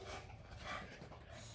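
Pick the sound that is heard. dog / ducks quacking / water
dog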